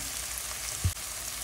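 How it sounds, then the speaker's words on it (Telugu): Peas and onion pieces for samosa filling fry in a pan with a steady, soft sizzle, broken by one brief low knock near the middle. "బఠానీ, ఉల్లిపాయ ముక్కలు వేగుతున్నప్పుడు"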